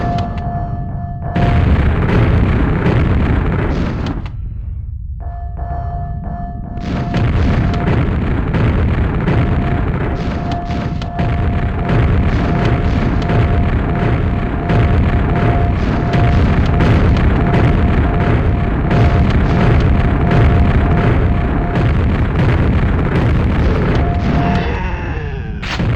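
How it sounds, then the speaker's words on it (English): A continuous barrage of loud booms and bursts from Quake 64 on Nightmare Mode on real N64 hardware, dense and overlapping, with a brief lull near the start. "there's so many explosions going on"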